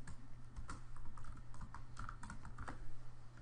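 Typing on a computer keyboard while renaming an Excel worksheet tab: a steady run of light, close key clicks with uneven rhythm over a low constant hum, no talking.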